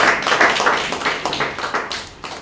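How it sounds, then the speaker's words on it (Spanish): A church congregation applauding, a dense run of clapping that gradually thins and fades over a couple of seconds. "¿Cuántos pueden darle un aplauso al Señor Jesús?"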